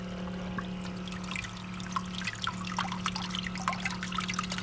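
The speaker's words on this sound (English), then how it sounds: "See how the water coming out of there is about" Water runs steadily from a copper pipe fed by a faulty water heater, a continuous trickling splash with scattered drips over a constant low electrical hum.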